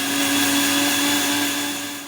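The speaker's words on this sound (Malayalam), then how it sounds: "ഇതിനി നമുക്ക് മിക്സിയിലിട്ട് അടിക്കാം." An electric mixer grinder blends a runny mixture of fenugreek water and rice water, giving a steady, close motor whine with a constant hum that eases slightly toward the end. No speech.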